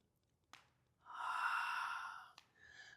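A long, soft exhale during a yoga wide-legged forward fold, close and breathy, swelling and fading over about a second and a half, framed by two short sharp breath catches.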